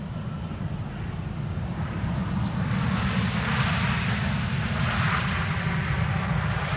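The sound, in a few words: Airbus A321neo jet landing at Schiphol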